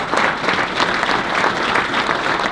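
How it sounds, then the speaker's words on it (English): Applause from an audience at a university athletics facility dedication event, a dense, steady wash of clapping sustained at even loudness throughout with no voices over it. "Everybody give Coach Clausen a round of applause."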